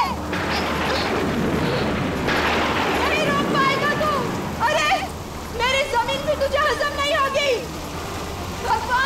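Heavy rain roars with rumbling, storm-like bursts, then voices speak loudly over the continuing downpour.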